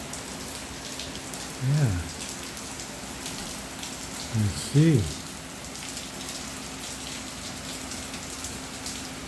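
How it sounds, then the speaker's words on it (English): Rain falls steadily on the Yucatan, a soft, even patter and hiss running throughout beneath a few brief spoken words from a man. "Now we know it's rain."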